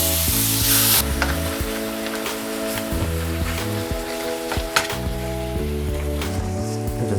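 Spicy Korean pork bulgogi stir-frying in a pan, a steady, bright sizzle that runs continuously beneath background music with no pauses.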